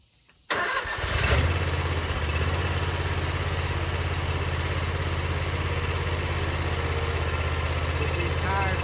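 A Gravely Pro-Turn 200 zero-turn mower engine, being run during a hydraulic fluid and filter change, starts abruptly and settles into a loud, steady, close idle with a constant low drone.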